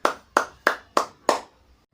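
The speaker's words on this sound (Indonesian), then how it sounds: "Tepuk tangan dulu untuk kita semua." A fifth-grade class claps together five times in an even, deliberate rhythm, each sharp unified clap ringing briefly in the classroom before the next, with no talking.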